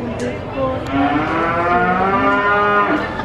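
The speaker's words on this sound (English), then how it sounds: "So there's a few cows, but they're still getting them ready." Cattle at a fair mooing repeatedly, long low lowing calls overlapping one another at close to moderate distance over a steady crowd-and-barn background, with no clear speech.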